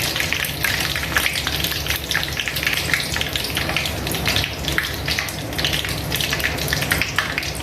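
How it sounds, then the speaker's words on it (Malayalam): Curry leaves and green chillies fry in hot oil, crackling and sizzling continuously with dense, busy popping throughout, close and fairly loud, with no talk. "അടുത്തത് നമ്മൾ ഇതിലോട്ടുള്ള കറിവേപ്പില വറക്കാൻ പോവുകയാണ്."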